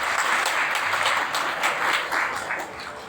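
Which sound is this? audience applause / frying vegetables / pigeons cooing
audience applause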